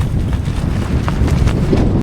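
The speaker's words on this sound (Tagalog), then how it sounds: "Sobrang lakas ng hangin." Strong wind buffets the microphone in a constant loud rumble, with gusty roars and rustling throughout, under a tree by the Calabasa River in Gabaldon, Nueva Ecija; no voices.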